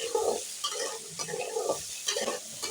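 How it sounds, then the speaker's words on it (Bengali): Diced potatoes and pumpkin seasoned with salt and turmeric fry in a pan with a steady sizzle, broken by several bursts of scraping as the pieces are stirred, close and fairly loud. "এখন আলু ও কুমড়োগুলো আমি ভালোভাবে ফ্রাই করে নেব"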